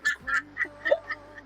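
A duck quacks in a quick run of about five short, nasal calls, close and distinct with no talk.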